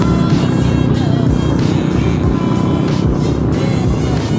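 A motorcycle engine runs close and loud with a rough, steady drone, and its revs pulse roughly every half second as the bike rides along a road in Cebu.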